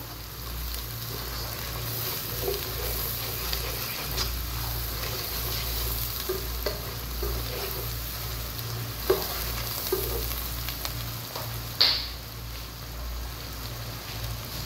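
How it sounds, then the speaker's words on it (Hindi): Spices sizzle and fry in a pan for a Lahori chickpea curry, a soft steady crackle with occasional stirring clinks and scrapes, no one speaking. "थोड़े से मिसालों को पकाएंगे हम लोग, ठीक है, इस तरह।"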